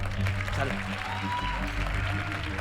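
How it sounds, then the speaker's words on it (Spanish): Studio audience applause on a Chilean television talk show, a steady wash of clapping held throughout at moderate level, with a brief word spoken over it. "este aplauso es para ti"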